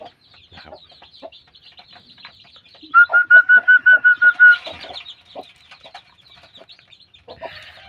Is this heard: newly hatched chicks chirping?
yes